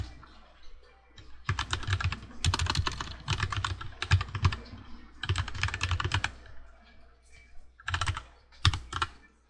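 Computer keyboard keys pressed in quick bursts of several clicks with short pauses between, including a Ctrl+N shortcut, close and fairly loud in a quiet room with no talking.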